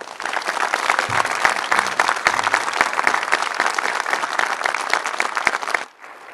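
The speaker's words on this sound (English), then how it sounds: "let's give Lieutenant Colonel Rubio a round of applause" A round of applause from the audience at an Army oath-of-enlistment ceremony honouring a lieutenant colonel: steady, dense clapping for about six seconds, then an abrupt stop.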